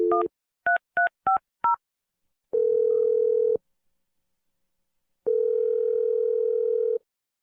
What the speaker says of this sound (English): I'm about to dial Julia's phone number.